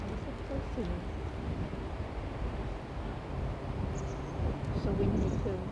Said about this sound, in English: So windy too.